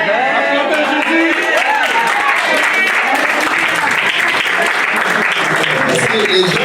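Loud, sustained applause from a church congregation during a French-language worship service, dense clapping filling the space without pause, with voices and cheers mixed in.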